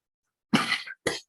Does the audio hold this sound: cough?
yes